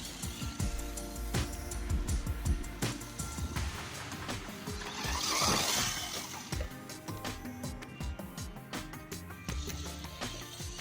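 WLtoys 104001 RC car fitted with new spur gears driving on a track, a busy mix of whirring motor, gear chatter and clattering bumps, fairly faint and fluctuating, with a louder swell near the middle.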